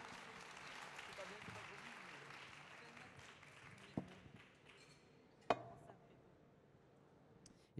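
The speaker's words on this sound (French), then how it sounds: "On peut l'applaudir encore." Audience applause at a ribbon ceremony, a sustained patter of many hands clapping at moderate distance, tapering off after a few seconds, with a couple of sharp knocks and voices murmuring underneath.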